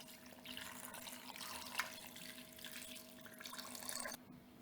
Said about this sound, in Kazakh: Су құямыз.